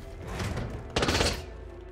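A quick volley of gunshots rings out in Hitman 2 on the Miami level, a burst of sharp cracks peaking about halfway through the short moment against a background hum.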